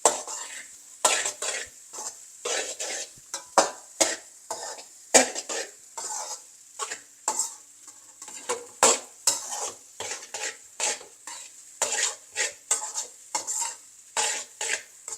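Egg fried rice is stirred in a frying pan, with a spatula scraping and clinking against the metal in an irregular rhythm over a faint sizzle, up close and with no talking.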